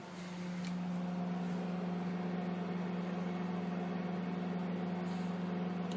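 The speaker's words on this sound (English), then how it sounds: "waiting for it to microwave" A microwave oven heats a bowl of porridge with a steady, even hum and a fan drone that start at once and hold unchanged, close by and alone.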